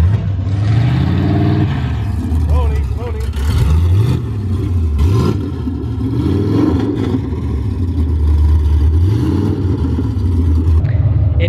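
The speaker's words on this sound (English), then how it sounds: "It is open headers, so it's quite loud." Open-header 5.3-liter iron-block V8 swapped into a Nissan 240SX revs repeatedly, loud and close, with deep rising and falling engine pulls throughout.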